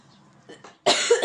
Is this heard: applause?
no